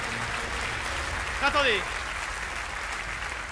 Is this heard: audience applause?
yes